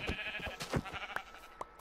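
A Minecraft sheep bleats in a short, wavering call over quiet game background, with a couple of faint clicks after it.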